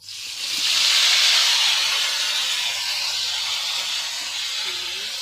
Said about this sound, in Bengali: তো এখন ভেজে নিব কাঁঠাল, সেদ্ধ করা কাঁঠাল ভেজে নেব।